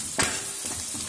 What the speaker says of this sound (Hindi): अब डालेंगे हल्दी पाउडर और हल्दी को बिल्कुल अच्छे से जो है तेल के अंदर पका लेंगे।